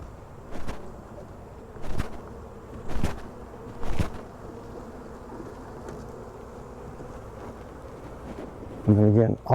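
Bees hum around a late-summer beehive nuc during installation, a steady buzzing bed broken by several sharp knocks or steps at regular intervals and a short louder burst near the end.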